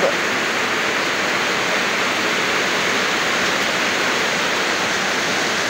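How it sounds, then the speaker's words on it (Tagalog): Heavy rain pours down steadily on a house, a dense, loud, unbroken roar of falling water close by, with no breaks and no voices. "Pag malakas yung ulan po, tumutulo yung bahay namin."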